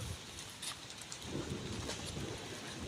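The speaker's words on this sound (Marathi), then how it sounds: "तर हे बघा थेंबे पडतात बारीक बारीक" Light rain falling in fine, small drops in rural Konkan during a monsoon downpour, a soft, steady patter that stays faint and distant throughout, with no voices.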